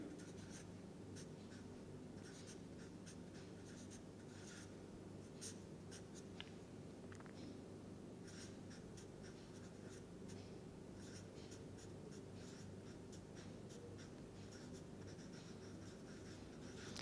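Marker or chalk writing on a board while a chemistry reaction is worked out, with faint, quick scratchy strokes in bursts over a steady low room hum, no talking.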